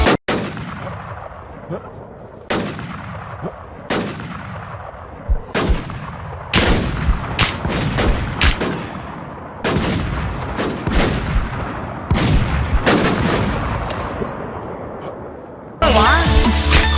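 Gunfire in a Thai-played shooting video game: repeated loud single shots at irregular intervals, then a denser stretch of rapid overlapping bursts, with a harsh electronic noise at the end.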